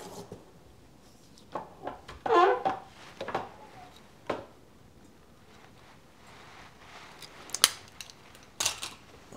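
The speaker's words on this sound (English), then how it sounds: "Let's cut some wood." Carving tool cutting into a wood block for woodblock printmaking, a series of sparse, scattered scraping and chipping strokes, close and intermittent, separated by quiet gaps.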